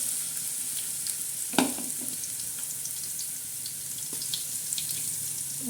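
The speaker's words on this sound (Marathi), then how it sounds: "आता त्याच्यात प्रथम आपण हा खडा मसाला टाकणार आहोत" Whole spices crackle in hot oil in a pot, a soft continuous sizzle with a few louder pops and a spoon scrape partway through.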